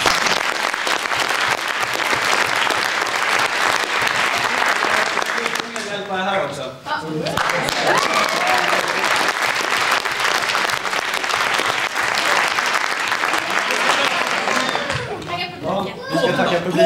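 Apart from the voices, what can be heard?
audience applause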